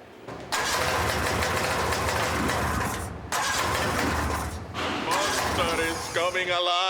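A Mini Cooper converted into a snowmobile cranks and roars to life, then runs at a loud, steady rumble with brief dips, as people talk over the engine near the end.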